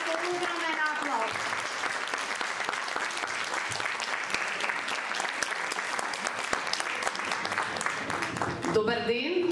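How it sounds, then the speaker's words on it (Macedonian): Sustained audience applause fills the room at the opening of a children's song and dance festival, loud and steady, with a few voices briefly audible near the end as clapping fades. "Поздравите со огромен аплауз."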